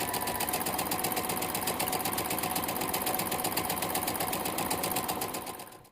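A domestic sewing machine runs steadily at speed, its rapid needle clatter forming an even mechanical buzz close by, then slowing and trailing off near the end with no talking.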